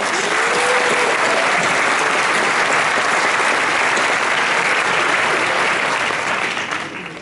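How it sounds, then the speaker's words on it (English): An audience at a Samsung product demo gives a big round of applause, loud even clapping sustained for several seconds and tapering off at the end. "Let's give Nick a big round of applause"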